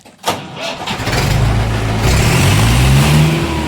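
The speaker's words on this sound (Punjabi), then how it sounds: "self start" A tractor engine self-starts after a brief click, cranks and catches, then settles into a loud, steady rumbling idle close by.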